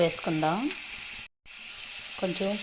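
Chopped onion and green chilli sizzle gently in hot oil under a soft, continuous hiss, with brief voiced tones at the start and end and a short silent gap in the middle.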